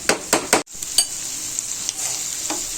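Chicken frying in a pan, a steady close sizzle with a few quick stirring scrapes at the start, continuing loud and even without speech.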